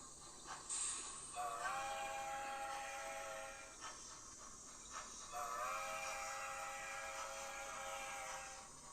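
A locomotive runs on a railway, its whistle-like tones sounding twice over a steady hiss of steam and rolling rail noise, faint and distant throughout.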